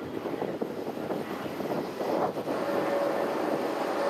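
Airplanes at Tokyo Haneda Airport, heard from the observation deck as a faint, distant engine roar that swells slightly partway through over a steady airport hum.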